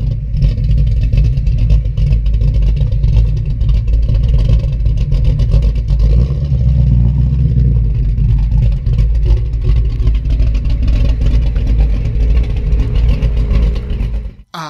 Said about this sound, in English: They say just the sound of these engines idling raises your testosterone level.